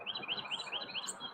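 A bird called Chirpy chirps agitatedly in a quick, repeated series of high, thin calls, fairly faint and close, with no talking.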